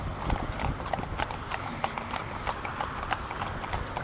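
Hooves of a four-in-hand horse team clip-clopping on a road in a steady, fast, near rhythm, with faint background noise.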